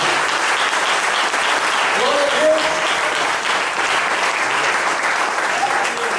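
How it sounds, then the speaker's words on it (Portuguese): A church congregation applauds steadily throughout a worship service, with dense sustained clapping and a voice speaking over it. "Aplauda Jesus de novo."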